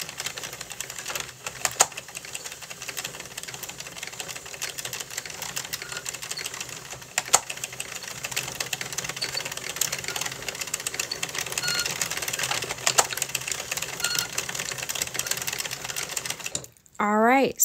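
A circular knitting machine is cranked through rows of an ear warmer, giving a steady stream of rapid mechanical clicks and clatter that runs continuously at close range and ends in a short burst of handling noise.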